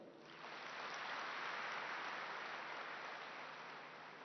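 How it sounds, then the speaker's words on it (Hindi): An audience clapping together at a spiritual discourse, a steady, fairly distant wash of many hands that swells in and holds evenly without talk. "ताली बजाओ।"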